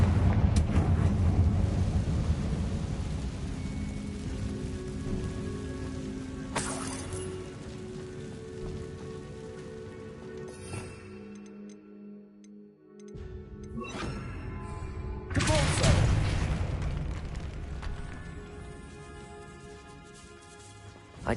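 Loud crackling blasts from the Confringo fire spell in Hogwarts Legacy, a roaring burst at the start, another near seven seconds and a third, heavier one around fifteen seconds, with lingering rumble and game ambience between them.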